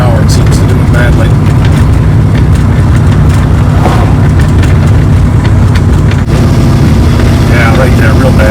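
A 1973 Dodge Dart Swinger in second gear at about 40 mph, with a loud, constant drone of engine and road noise carrying a steady whine and rattle, recorded from inside the car while people talk over it.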